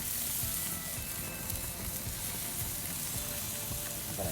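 Chicken skewers sizzle steadily on a grill with a dense, continuous crackle, close and even throughout, with faint scattered pops and no voices.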